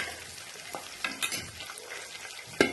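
Garlic and curry leaves sizzle softly in a pan while a utensil taps and scrapes a few times, ending in one sharper clack against the metal.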